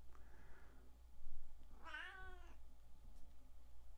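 A house cat gives a single drawn-out meow at dinner time, indoors beside a guitar pickup demo setup. It is fairly faint and close, set against a steady electrical hum and quiet room noise.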